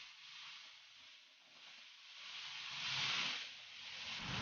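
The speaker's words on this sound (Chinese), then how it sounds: "把泡椒酱倒入锅中，" Pickled chili sauce hitting hot oil in a wok and being stir-fried for a Chongqing-style Sichuan peppercorn bullfrog dish, a steady broad hiss that swells and peaks near the end, with no talking.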